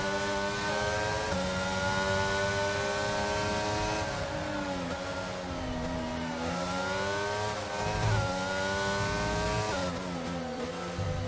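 Race cars lap the Japanese GP in a racing video game, their engines whining loudly and continuously, with pitch sweeping up and down as they accelerate and brake through corners.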